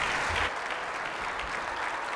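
Audience at an economic development event applauds steadily, a dense wash of clapping that holds at an even level for a couple of seconds with no voices over it.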